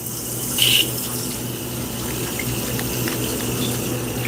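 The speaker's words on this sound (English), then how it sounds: "Gonna wash my hands." Steady rush of warm water running from a tap while hands are washed, close and continuous with a brief higher splash or squeak near the start and no talking.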